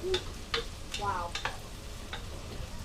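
Celery, onion and garlic frying in a pan for potato bacon soup inside an RV kitchen, a low sizzle with a few sharp stirring clinks and scrapes, close and fairly quiet, no talking.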